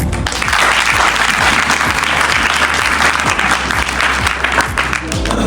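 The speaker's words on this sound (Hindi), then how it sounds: "तालियां बजाएं" Sustained applause from a church congregation fills the whole stretch, dense and steady with no pauses, though a few voices are mixed faintly into the crowd.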